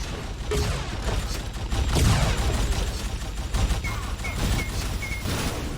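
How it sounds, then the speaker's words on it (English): Dual enforcer pistols fire in Unreal Tournament: dense, continuous bursts of loud game gunfire with mechanical clatter, steady throughout and no talk. "this double enforcer is very intimidating"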